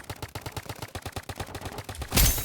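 A gun in the Roblox game BIG Paintball 2 fires in a rapid, evenly spaced automatic stream of sharp pops, ending in a louder, heavier burst.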